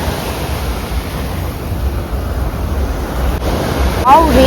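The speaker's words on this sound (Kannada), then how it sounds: "ಮತ್ತೆ ಅಲೆಗಳು ಸ್ಟಾರ್ಟ್ ಆಗ್ತಿದೆ." Ocean surf rolling onto Baga Beach in Goa: a steady, loud broadband wash of breaking waves with wind rumbling on the microphone, swelling slightly near the end as a voice briefly speaks.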